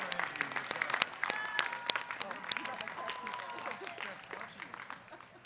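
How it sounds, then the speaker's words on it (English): Audience at a university commencement ceremony applauding degree candidates who have just received their BS, a steady spread of scattered hand claps at moderate level, with a voice speaking over the clapping. "please let us applaud those candidates who have just received the BS"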